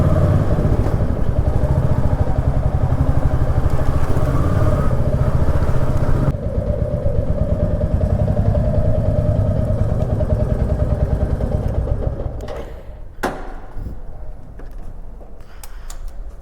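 A motorcycle rides along an Indian road with hazard lights on, its engine droning steadily and loudly up close with mechanical clatter, then easing to a lower, rougher idle near the end with a few sharp knocks.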